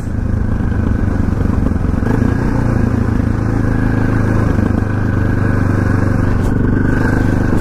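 A KTM LC4 640 single-cylinder motorcycle roars loudly on a test ride, its engine note strong and steady and close by, with a brief drop in intensity near the middle before pulling on again.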